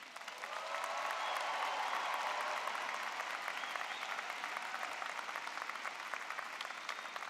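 An audience applauds graduates at a university commencement ceremony, sustained steady clapping from a large crowd that swells quickly and holds at an even level throughout.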